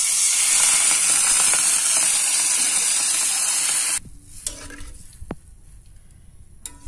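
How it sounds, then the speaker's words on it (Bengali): Water poured into spiced potatoes frying in a pan for a dal and egg curry: a loud bright hissing gush that cuts off abruptly, followed by quieter bubbling and a few utensil clicks. "মশলার সাথে আলুগুলো আমি 3-4 মিনিট খুব ভালো করে ভেজে নিব কষানো হয়ে গেছে এই পর্যায়ে আমি জল দিয়ে দিচ্ছি"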